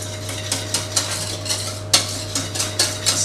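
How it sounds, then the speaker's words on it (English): A pastitsio mixture with bechamel whisked briskly in a bowl, metal tines clicking and scraping against the sides in a quick, regular rhythm, close and fairly loud, with a faint hum underneath. "Give it a good whisk again."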